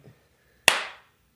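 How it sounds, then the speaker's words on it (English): A single sharp hand clap marks the start of a podcast recording, close and loud with a short decaying ring, after a brief moment of near silence. "All right, well, then clap again."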